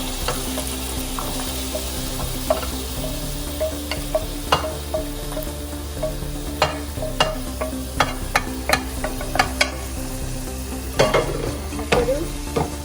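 Coconut pieces fry in hot oil over a medium flame for Kerala-style spicy beef fry, a loud continuous sizzle broken by frequent sharp spatters, pops and utensil clicks, with no voices.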